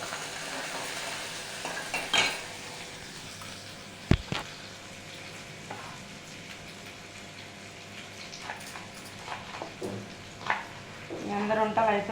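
Capsicum and potatoes fry in a pan with a steady low sizzle, broken by a few sharp clinks and scrapes of stirring; no one speaks.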